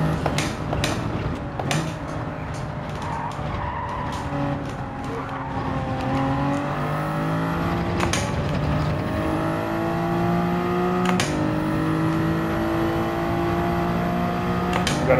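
A Toyota Supra and a Chevrolet Corvette drag race to the finish in a racing video game, with sustained engine drones climbing through gear shifts and sharp clicks punctuating the steady roar.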